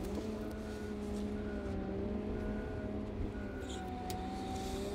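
A Cat 926M/930M/938M-class wheel loader drives in reverse at high engine RPM, its steady engine and hydrostatic drive drone close and continuous with a faint tonal whine, with no speech over it.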